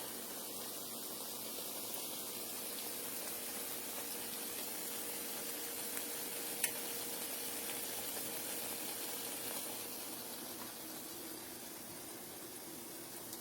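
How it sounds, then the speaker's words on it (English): Soft, constant hiss of cornbread frying in a pan, even and low in level throughout, with a faint click partway through. "I'm frying me this little pan of cornbread to go with it."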